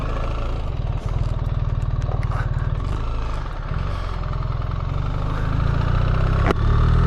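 BMW R1300GS adventure motorcycle engine running with a steady low throbbing beat, rising in intensity toward the end as it pulls away, close and loud throughout.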